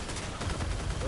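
A rapid-fire weapon fires continuously in the vehicle combat game Crossout, a dense, loud, unbroken stream of shots lasting about a second.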